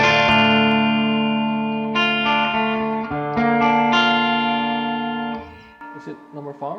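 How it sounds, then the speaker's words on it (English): An Epiphone Inspired by Gibson Custom Korina 1958 Flying V electric guitar with a nitrocellulose refinish plays loud, sustained distorted chords that ring out and shift several times before fading, close and full. "Let me try that with some distortion too."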